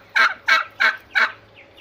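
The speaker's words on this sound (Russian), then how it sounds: "А, это индюк, которого мы привезли вот 1-го, 19-го числа." A turkey gobbles in a poultry house during the morning, four loud, close bursts in an even rhythm with no talking.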